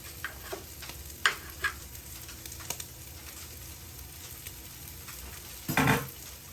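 Egg being stirred in a hot pan for mussel and egg fried rice, a steady soft sizzle with a few light scraping clicks and a louder burst of stirring near the end, no voices.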